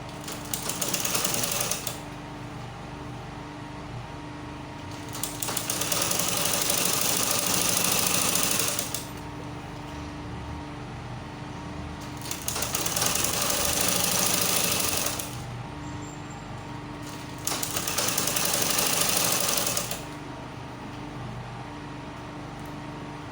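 A sewing machine stitches a petticoat hem for a ball gown in four loud, rapid, buzzing runs of a few seconds each, separated by quieter pauses with a low background hum.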